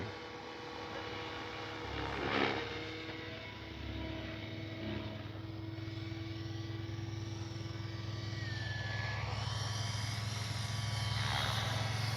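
Large FlightLine F4U Corsair radio-controlled model plane flying in a light breeze, a steady distant engine drone that slowly swells and shifts pitch, heard alone without talk.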